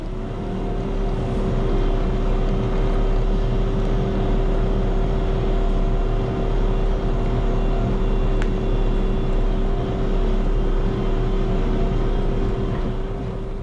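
Bobcat skid-steer loader driving along a gravel parking lot during a spring cleanup and scooping gravel and cattails, with a loud, steady diesel engine drone and a constant tonal whine, close by with no break.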